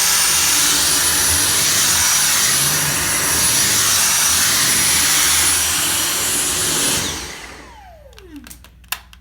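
Dyson V6 cordless stick vacuum running on max power, a loud steady high-pitched motor whine and airflow roar that winds down after about seven seconds, followed by a few light clicks.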